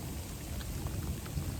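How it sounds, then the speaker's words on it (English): Rain and hail falling during a summer storm on a hiking trail, a dense steady patter with scattered sharper impacts close by. "but it's still raining and hailing quite a bit"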